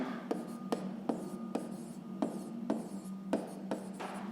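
A pen scratches across paper in rhythmic strokes, with about ten sharp ticks spaced roughly half a second apart over a soft, continuous rasp, close and quiet.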